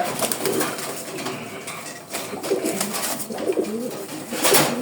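Several pigeons coo in low, throaty murmurs inside a cage, overlapping and continuous, close by, with faint rustling and a brief flutter near the end.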